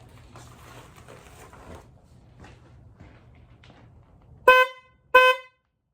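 Two short, loud blasts from an aftermarket PIAA horn dangling on a Subaru Sambar, in quick succession, following quiet shuffling and handling noises.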